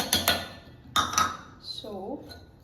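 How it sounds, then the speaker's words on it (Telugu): A spoon clinks against a bowl while vegetable sandwich filling ingredients are mixed. A few sharp metallic taps come in quick bursts, then fade into softer scraping. "సో ఫస్ట్ ఈ ఇంగ్రీడియంట్స్ అన్నిటిని ఒక బౌల్లోకి మిక్స్ చేస్తాను."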